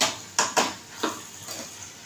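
Bottle gourd (lauki) sautéed and stirred in spice masala inside a pressure cooker: a few sharp scraping clinks of a spoon against the metal pot, spaced out irregularly over a soft sizzle.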